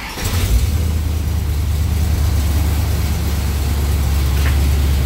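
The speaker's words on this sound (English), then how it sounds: "Okay, so it's idling." Car engine fitted with a Holley carburetor idling when warm, a loud, close, steady low rumble with a slightly choppy pulse and no talking.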